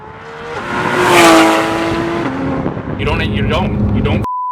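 A Porsche 991.1 GT3 RS engine revving high, its pitch climbing and then dropping in steps through quick gear shifts, loud and close, with talk over it and a brief steady tone at the very end.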